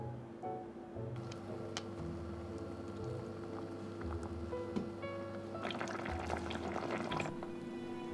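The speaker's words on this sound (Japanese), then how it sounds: "ふつふつと沸騰したら鶏胸肉と大根を入れます" Faint bubbling and soft gurgling of soy sauce, sake and mirin broth at a gentle boil, continuous and close, over a low steady hum.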